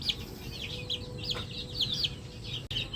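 A yellow-legged, straight-comb gamefowl rooster makes quiet, repeated clucks and short chirping calls over a low, faint background rumble.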